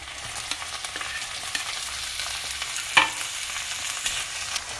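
Tomatoes go into garlic paste frying in a pan, a soft steady sizzle broken by scraping stirs and one sharper clack near the middle, close and with no voices.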